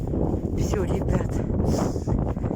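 Strong wind buffets the microphone outdoors in a steady, rumbling roar that fills the whole moment, with a voice partly masked underneath.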